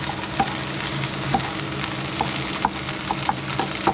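Vegetables for quesadillas frying in a pan at a riverside camp, a steady close sizzle broken by regular clicks and scrapes of stirring, with no voices.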